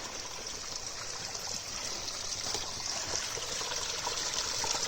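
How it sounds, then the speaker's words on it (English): Water trickles and splashes steadily from an outlet in a stone wall, a mountain stream behind an old Japanese farmhouse, a continuous soft stream with no voices. "there's just water steadily coming out of there."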